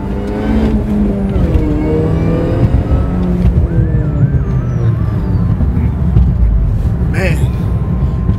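Mini Cooper accelerating on the road, a loud close engine whine rising through the gears with shifting pitch and steady road and cabin rumble beneath, a voice talking over it.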